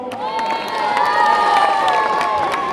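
A crowd at a youth rugby tournament prize-giving cheers and claps, high shouts and children's voices rising over scattered applause, loud and sustained throughout.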